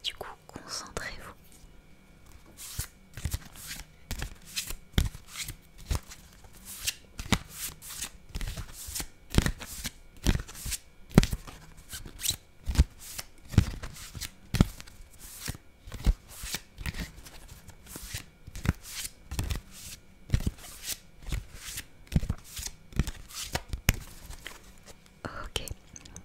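Tarot cards are shuffled by hand in a quiet room, with soft crisp riffles, taps and flicks coming in uneven bursts, close and gentle, while a voice whispers now and then.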